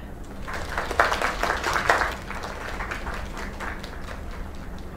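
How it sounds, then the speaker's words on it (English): Crowd applause in the video game Lake, a short burst of clapping that swells and then fades into a soft background murmur, moderately quiet. "Another round of applause."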